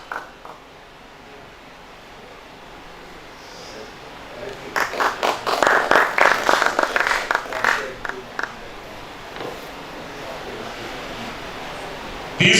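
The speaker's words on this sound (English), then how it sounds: "Can you give me a round of applause?" A round of applause at a funeral conference in Kenya, starting quietly, swelling into a loud burst of clapping in the middle, then fading back to a low murmur before a final sharp sound.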